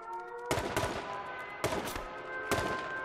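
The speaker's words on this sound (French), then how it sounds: "Ça tire sur moi les gars, ça tire sur moi." Sharp bursts of gunfire from the online shooter H1Z1 crack out in three separate volleys, each a loud close report followed by rapid shots and a short ringing decay, over a steady low game hum with no talk.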